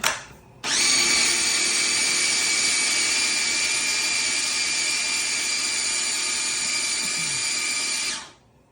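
A powerful food processor grinding lemon pesto with added garlic powder, starting abruptly into a loud, steady high-pitched whir that holds for about seven seconds before spinning down.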